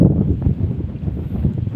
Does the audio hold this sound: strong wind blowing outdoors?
yes